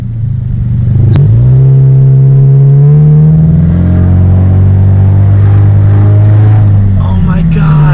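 A Scion FR-S fitted with a Spec-D catback exhaust with catalytic converter still in place revs loud and close, its deep drone climbing and holding for several seconds, with excited voices over it.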